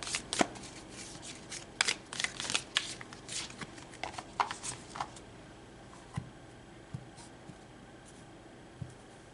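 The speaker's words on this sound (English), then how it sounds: "All right, so let's pull some more cards." Tarot cards shuffled by hand at close range, a run of crisp riffling bursts and flutters through the first half, then sparser light taps and slides as the deck settles, with no talk.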